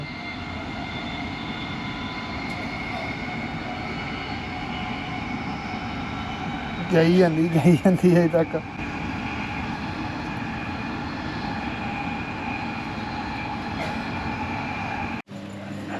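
Commuter train in Brisbane running at speed, a steady loud rumble and rolling hum throughout, with a brief louder rattling burst in the middle and a quiet voice speaking briefly.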